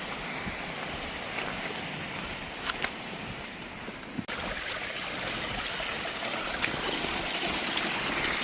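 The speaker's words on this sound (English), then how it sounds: "Look at those waterfalls" Rushing waterfalls in the Lake District hills, a continuous broad hiss of falling water heard steadily throughout, with a few faint knocks and a brief cut midway, no talk.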